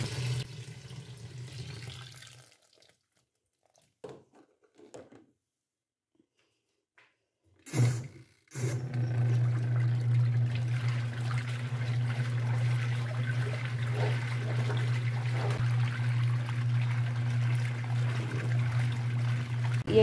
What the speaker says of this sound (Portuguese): coloco esses panos de prato aqui dentro do tanque, enxago e vou botar na água pra cá